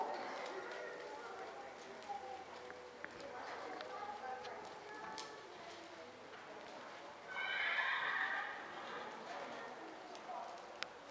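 A horse whinnies loudly around the middle of a riding session, with clip-clop hoofbeats and other horse sounds at a moderate distance while people talk in the background.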